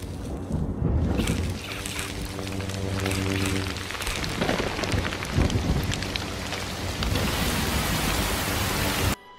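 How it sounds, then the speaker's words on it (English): Rain falls and sizzles into steam on a lit lightsaber blade in the Star Wars Jedi Academy video game: dense hissing patter mixed with the saber's low humming buzz, continuous and fairly loud. "even rain that falls from the sky and sizzles into steam on the lit saber's blade"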